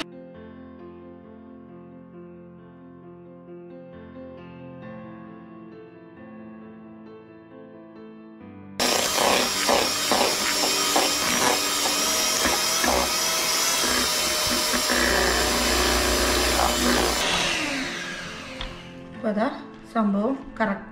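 An electric mixer beats vanilla cake frosting for a Christmas Santa cake, starting abruptly as a loud, steady whirring buzz after soft background music and running steadily before cutting off near the end.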